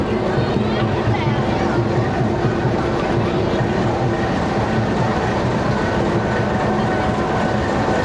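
Pakistan Railways diesel locomotive GU20 4556 rumbles loudly and continuously at Kasur Junction as it moves off to change direction, a heavy close engine drone with rail clatter, while someone talks over it.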